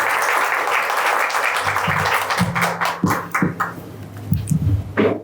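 An audience applauds at a university ceremony in Ecuador, a dense steady patter of clapping, later joined by low tonal sounds and scattered sharper claps.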